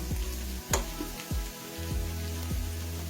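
Food sautéing in a pan on a stove while a sweet potato cutlet is made, a steady close sizzle broken by several scraping stirs of a spoon, with no talk.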